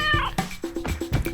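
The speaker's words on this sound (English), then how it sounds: "a cat meowing" A cat meows several times in quick succession, short, close, clear cries repeating in a loose rhythm.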